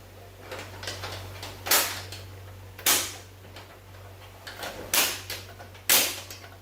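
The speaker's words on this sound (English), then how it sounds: "We're gonna grab the inside door handle." A series of sharp mechanical clicks and clunks from a Fox-body Mustang's inside door handle and latch being worked, spaced irregularly over a faint steady hum.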